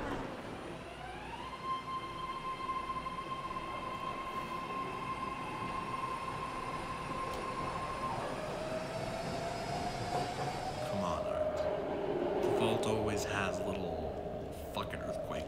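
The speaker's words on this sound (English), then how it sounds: "This is Pittsburgh Antioch train." A Pittsburgh–Antioch subway train runs steadily with a loud rumble, sustained whining tones that shift pitch partway through, and scattered rattles and squeals near the end.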